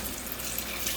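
Water pours steadily into a cooking pot for shrimp stock, a continuous close splashing rush lasting about a second with no voices.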